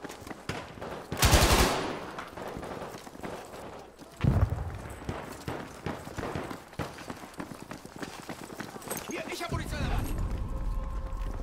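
Gunfire in the video game Battlefield V: short bursts of automatic fire, loud and close, separated by quieter stretches of footsteps and movement.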